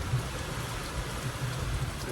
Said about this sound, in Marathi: पाऊस असाच पडत आहे आणि तो पण मुसळधार पाऊस पडत आहे